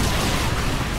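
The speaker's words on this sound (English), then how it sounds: "Don't mind the explosions, Crono." A dense, loud blast of rumbling booms and crackle in the video game Earth Defense Force, continuous and close, like heavy explosions going off in quick succession.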